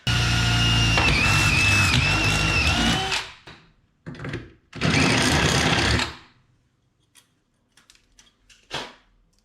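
A loud power drill whines for about three seconds, drilling a hole at a centre punch mark, then two more short bursts of drilling follow, separated by quiet pauses.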